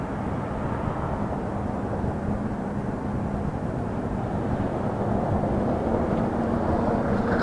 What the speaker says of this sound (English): We have an estimated departure at 1850 for the A340 Lufthansa